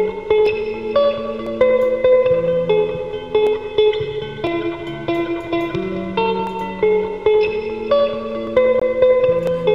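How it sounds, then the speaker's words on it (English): Clean electric guitar notes picked in a slow pattern, each repeating through a delay so the echoes overlap and blend into a shimmering wash. "Some delay on this guitar, so that way the notes kind of blend into each other"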